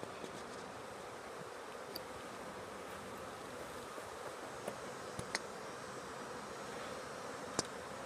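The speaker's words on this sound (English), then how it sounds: "These bees, they'll fly around for a minute and then they'll fly back to the entrances of their hive." Faint, steady hum of honey bees flying around a hive, with a few soft clicks and ticks scattered through the background.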